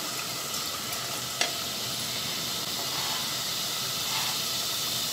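Spice masala fries in oil in a pan, a steady hissing sizzle with a brief clink of a utensil early on and no talk.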